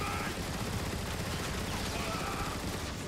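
Dense, continuous gunfire from the video game Transformers: Fall of Cybertron, a loud, unbroken wash of rapid shots and explosive crackle filling the whole stretch without pause.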